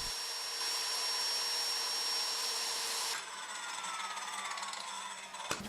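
A circular saw riding along a guide jig cuts the excess off a board. A steady, close whine and cutting hiss shifts partway through, then winds down near the end, with no talk.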